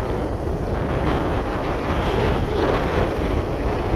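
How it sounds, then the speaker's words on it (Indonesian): Strong wind at 14 to 15 knots blasts the microphone aboard a tug assisting a ship unberthing, a loud constant roar with deep rumbling and no pauses, no voices heard. "Mohon maaf lor ya apabila angin cukup kencang suaranya lor, karena kecepatan angin mencapai 14 sampai 15 knot."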